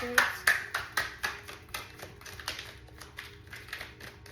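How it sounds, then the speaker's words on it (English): Quick crisp riffles and taps of tarot cards being shuffled repeat in a rapid rhythm, close and fairly soft. "I'm getting better at shuffling."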